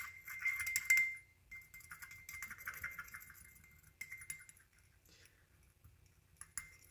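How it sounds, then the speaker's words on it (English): A dotting stylus stirs alcohol-thinned paint in a small container, giving a run of light clinking, tapping and scraping touches against glass that are close and fairly quiet, with a few sharper ticks near the end. "using my dot and stylus to stir."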